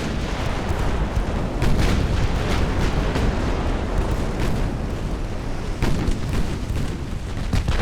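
Guns on 1890-era U.S. Navy warships in Ultimate Admiral: Dreadnoughts fire one after another, with heavy booms and sharp reports layered over a constant rumbling roar, loud and dense throughout.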